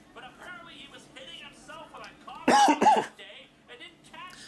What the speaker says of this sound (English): I coughed there.